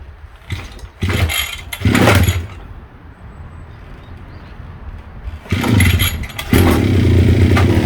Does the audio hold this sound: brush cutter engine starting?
yes